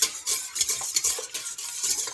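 A spoon or whisk stirs cake batter of oil, vanilla and sugar in a bowl, scraping in quick, uneven strokes with light clinks against the sides, close and fairly loud, with no talking.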